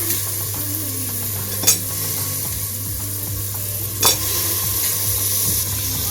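Potatoes stirred into fried masala in a pan for a beef kofta curry: a close, steady sizzle runs throughout, with two sharp utensil clinks against the pan.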